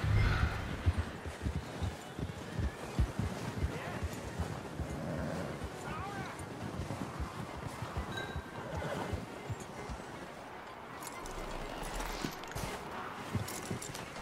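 A horse in Red Dead Redemption 2 gives a whinny and its hooves clop on the ground, close and fairly quiet, with people talking over it and wind in the background.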